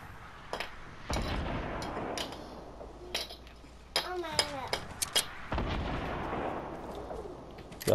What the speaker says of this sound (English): Oh yeah, I see him trying to snipe us.